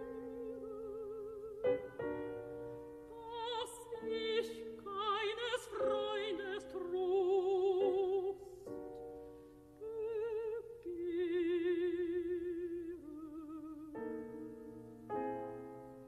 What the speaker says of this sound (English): a wedge sequence from Angst und Hoffen, the seventh song in Schoenberg's Book of the Hanging Garden